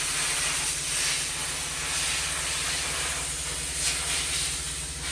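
Steady steam hiss rises from a kettle or pot as yarn is held over it to set its twist, a continuous close airy rush over a low hum, with no voices.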